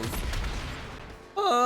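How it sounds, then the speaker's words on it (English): Missiles fire in the video game Oninaki, a dense burst of booming, crackling blasts that fades, then a bright tonal game effect cuts in near the end. "Why is he using so many missiles?"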